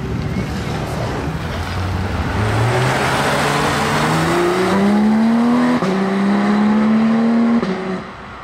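A sports car engine revs hard and climbs through quick gear changes, each shift marked by a sharp drop and rise in pitch, loud and continuous.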